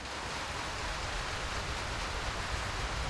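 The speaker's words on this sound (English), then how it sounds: "Sounds like it's raining." Steady rain falls in the MechWarrior 5 video game, a constant dense hiss with a low rumble underneath, even and unbroken throughout with no voices.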